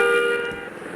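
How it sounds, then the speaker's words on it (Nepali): A bus horn sounding in a truck driving game, one steady sustained tonal honk lasting about a second, clear and fairly loud. "मेरो पछाडिको बसले चाहिँ हर्न बजाएको बजाइ छ"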